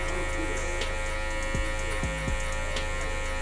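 Electric hair clipper fitted with a 1.5 guard cutting a man's hair for a fade, a steady close mechanical buzz with a low hum running throughout, and brief dips and pitch wobbles where the blade meets the hair.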